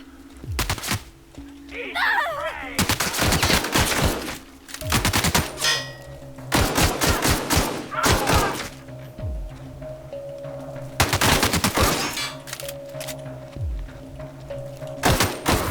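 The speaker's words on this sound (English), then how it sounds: "This pistol does not do a lot of damage." Bursts of pistol gunfire in The Outer Worlds, loud rapid shots in clusters separated by short pauses, with thuds and impact sounds between volleys.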